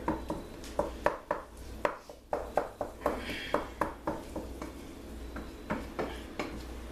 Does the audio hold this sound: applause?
no